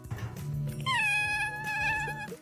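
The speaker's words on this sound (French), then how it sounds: "Et à chaque toudoum, Sawyer miaule" A cat meows in response to the Netflix jingle, giving a rising, drawn-out cry heard close and clear over the low jingle tones.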